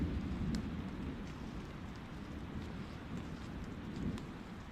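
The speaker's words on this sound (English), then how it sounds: "now the storm is approaching" A thunderstorm builds on a forested Appalachian trail, with steady rain hiss and low rumbling thunder rolling in the distance, broad and continuous without any voices.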